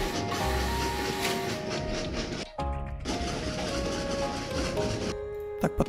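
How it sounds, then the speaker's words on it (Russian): A red train pulls out in the Train Valley railway game, a steady rumbling rail run under layered game music, with a short break midway and a few sharp clicks near the end. "Еще один красный поезд выезжает."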